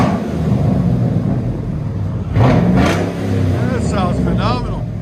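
A 2008 Chevy Silverado 2500 with a 6.0L V8 and Cherry Bomb Extreme dual exhaust rumbles loudly at idle, then revs sharply once. A person speaks over the exhaust near the end.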